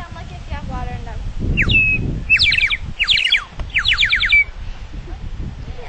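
A water-filled toy bird warbler whistle of the 1812 era trills bright warbling chirps in several quick bursts, close and loud over background murmur and shuffling, closely imitating birdsong.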